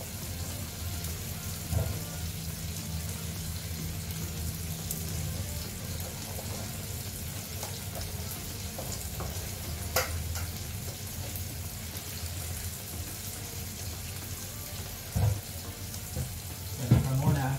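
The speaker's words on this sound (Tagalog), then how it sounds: "Hugasan ko muna yung palaya." Tap water running steadily into a sink while ampalaya (bitter gourd) is washed, a continuous splashing rush with a few soft knocks and clunks, close by.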